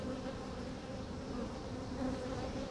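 A honeybee drone buzzes loudly around a beehive, a dense, continuous droning hum close by, with the background buzz of other bees and no talking.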